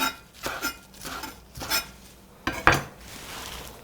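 Knife chopping radish leaves for kimchi on a board: several sharp, spaced cuts with clattering utensil knocks, close and alone.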